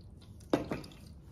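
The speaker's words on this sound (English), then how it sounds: "And now time to filter our whiskey." Whiskey drips through a Brita water filter into a glass: two soft, quick liquid splats close together, faint and close, over a quiet background.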